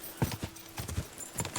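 Horse hooves clip-clopping in a hard gallop in the medieval game Kingdom Come: Deliverance II, with quick uneven clusters of hoofbeats that repeat at a steady pace.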